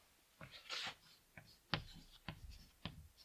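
Chalk or a marker writes a sentence on a classroom board in a few quick scratchy strokes and taps, short bursts separated by brief pauses, close and quiet with no voice over them.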